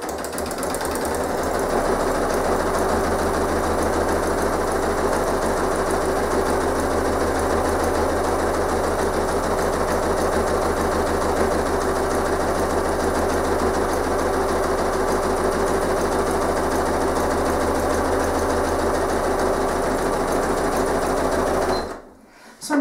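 A sewing machine runs a zigzag stitch around the edge of a fabric postcard, a steady, loud, fast mechanical whir that holds unbroken for over twenty seconds before stopping abruptly.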